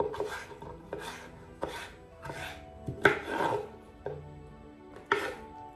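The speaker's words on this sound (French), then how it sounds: "ensuite je vais couper de gros cubes" A knife chops halved bell peppers into large cubes on a board, with about seven evenly spaced, crisp cutting strokes, each followed by a short rustle of the pieces, heard close with no talking.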